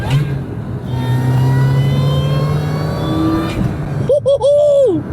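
A Mini Cooper S hot hatch engine revs loudly and close, its note holding steady and then climbing in pitch, with a brief sharp whine near the end.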